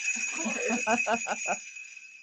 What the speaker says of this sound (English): actually, I couldn't resist the jingle bells.